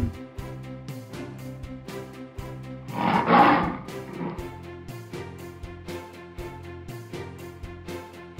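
A toy lion lets out one short, harsh roar in the middle, set against bright, bouncy children's music that plays throughout.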